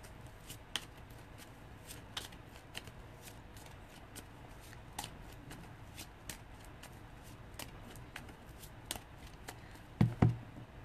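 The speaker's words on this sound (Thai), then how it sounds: "เดี๋ยวสับไพ่ก่อน" Tarot cards are shuffled by hand in a steady run of soft, crisp riffles and slaps, close and fairly quiet, ending with a couple of louder knocks and no talking.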